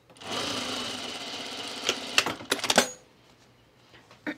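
A sewing machine stitches a divided basket from a Noodlehead pattern, its motor whirring steadily for nearly two seconds before breaking into a few sharp clicks and clatters, then falling quiet.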